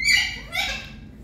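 Pet birds in a dark bird room give two squawking calls, one right after the other, fairly loud and close, with no one speaking.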